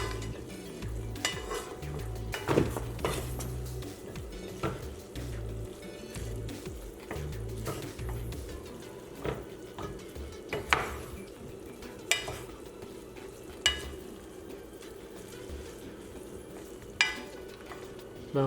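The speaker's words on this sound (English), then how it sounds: "Mix it all together." Lemon zest, parsley and other ingredients being stirred together in a bowl, with soft scraping and clinking of a utensil against the dish over a steady low kitchen hum, occasional sharper taps standing out.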